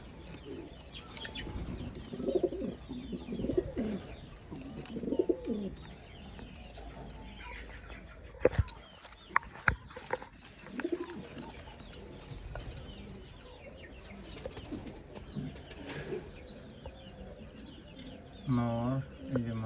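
Tiger Dabwala pigeons coo softly in a loft, low repeated murmurs with occasional wing flaps and faint background noise, not close or loud.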